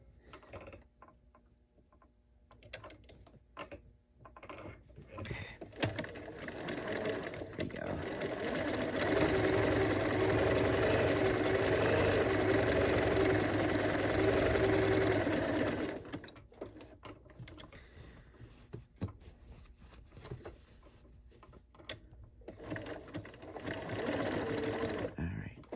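A sewing machine runs steadily, stitching decorative stitches on hexagon patchwork, its whirring hum swelling loud for several seconds before stopping, with brief starts, clicks and handling noises around it.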